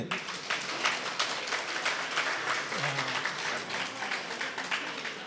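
A crowd claps steadily and continuously, a dense wash of many hands at moderate volume with no pauses.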